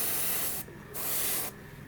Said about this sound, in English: while I've got it in the airbrush, I'm going to blast a bit on it now